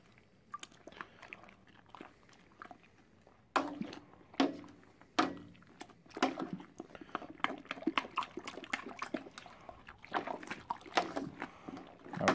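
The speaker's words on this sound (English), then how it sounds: "Now this stirring also creates oxygen into the beer." IPA beer wort being stirred in a Bulldog Brewer, heard close up as irregular wet knocks, clacks and sloshing splashes that grow busier and denser partway through.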